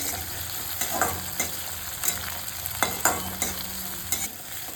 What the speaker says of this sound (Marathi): टोमॅटो घालून थोडं फिरवायचं. थोडं चांगलं होऊ द्यायचं, परतवत राहायचं.